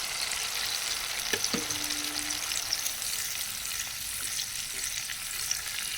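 Ground spice paste with salt and sugar sizzling in a pan for a Bengali jackfruit-seed dhoka dalna, a steady close hiss of frying that runs throughout, with a faint clink of a utensil partway through.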